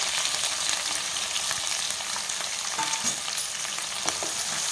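Chopped onions and green chillies frying in a pan for a cauliflower curry, a steady close sizzle with occasional spatula scrapes and small pops, no voices.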